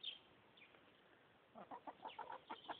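A pet hen clucks in a quiet room: faint noises at first, then a quick run of short, soft clucks, close by and alone.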